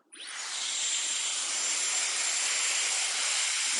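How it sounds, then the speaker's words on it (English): A hair dryer switches on during a short pixie haircut and blows a steady, loud, airy rush with a thin high whine, holding constant without any voices. "let's grab the dryer and"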